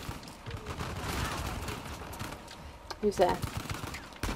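Rapid video-game gunfire from Uncharted: The Lost Legacy, a dense crackling burst of shots under a player's excited chatter, with a voice calling out briefly near the end.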